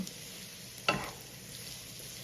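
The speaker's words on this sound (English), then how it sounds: "we're gonna saute these parsnip noodles here just a little bit to heat them up and soften them up just a touch" Parsnip noodles sauté in a pan with a steady soft sizzle, and a brief louder scrape of stirring partway through, close and without talk.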